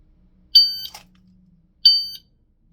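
A shot timer gives two sharp, high electronic beeps, each about a third of a second long and a little over a second apart, during dry-fire draw practice. A quick rustle follows the first beep, and the room is otherwise quiet.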